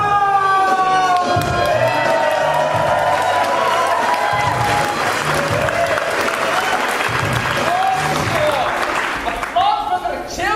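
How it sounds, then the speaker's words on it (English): An audience at a Christmas-season Sherlock Holmes stage show applauds the children, with loud, sustained clapping and some cheering and crowd noise that continue for the whole stretch. "Applause for the children."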